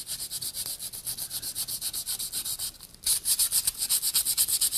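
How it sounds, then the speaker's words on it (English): Sandpaper rubbed back and forth over the waxed wooden handle of an axe, a close, steady rhythmic rasping of even strokes that grows louder and harsher partway through. "run your sandpaper over the waxed surface here"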